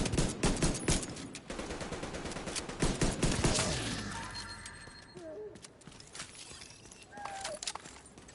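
Rapid, sustained minigun fire rattles through a firefight in the video game The Division 2. Dense overlapping gunfire and impacts run for several seconds, then trail off into scattered shots and game effects beneath faint voices.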